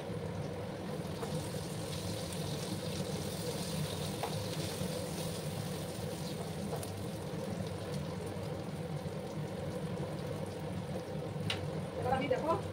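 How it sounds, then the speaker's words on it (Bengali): Dry red chillies frying in a pan without oil, cooked for a Bengali ilish fish curry, give a steady low sizzle throughout, with faint clicks near the end and a voice talking over it. "লঙ্কাগুলোকে একটু ভেজে নিচ্ছি"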